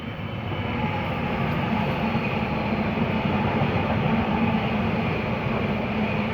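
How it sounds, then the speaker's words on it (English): A train going by produces a steady, broadband rumble at moderate loudness, continuous throughout with no voices over it. "We've got a train coming again."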